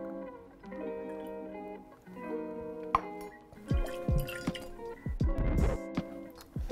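Tempus Fugit banana liqueur pours for a cocktail, a quiet liquid trickle with drips and a few light glass clinks, close and soft.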